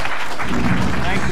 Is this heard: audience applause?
yes